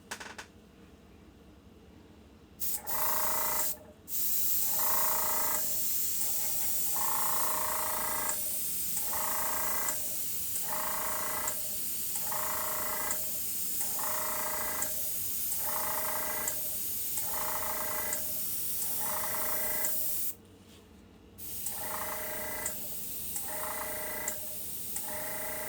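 Airbrush spray of transparent skin-colour paint over a Frankenstein's Monster garage kit figure: a steady close hiss broken by regular short bursts and brief pauses, with no talking.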